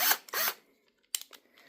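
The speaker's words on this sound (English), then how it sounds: "So you really got to push on hard with a screw or with the drill." A power drill drives tight-fitting machine bolts into stilts, giving two short loud whirring bursts near the start, then a pause and a few quieter, choppy bursts of grinding and clicking.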